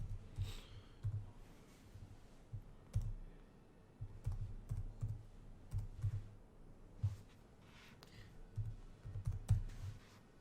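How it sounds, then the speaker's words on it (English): Typing a domain name on a computer keyboard while setting up a Shopify store, with soft, close key clicks tapping in an uneven rhythm, fairly quiet, with no talk. "Now go ahead, type a domain that you would like to have for your store."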